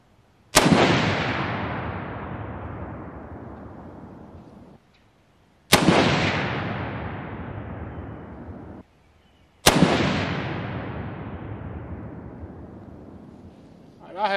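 Three loud, close rifle shots from an M70 in .257 Roberts firing 100-grain bullets, each a sharp crack followed by a long rolling echo that fades over several seconds.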